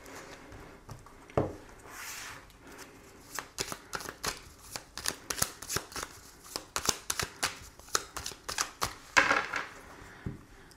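A deck of tarot cards is shuffled and cut by hand, with quick, crisp riffles and flutters repeating in close bursts over several seconds.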